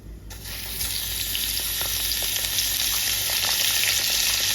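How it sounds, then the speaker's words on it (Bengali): A fish head hits hot oil already seasoned with dried red chili and panch phoron. The sizzle starts almost at once and swells to a loud, dense, even hiss with light crackling, up close. "তারপরে দিয়ে দিব মাছের মাথা"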